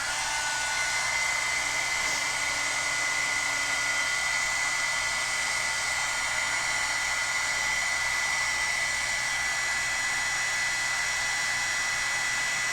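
A heat gun blows hot air from below to heat-set embossing powder, a steady loud whooshing drone that runs unbroken and close for over twelve seconds with no talk.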